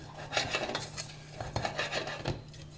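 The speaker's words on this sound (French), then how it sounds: "Alors, on mélange le tout." Dough ingredients and sugar are stirred together in a bowl with a utensil, giving quiet irregular scrapes and light clinks in uneven strokes, with no talking.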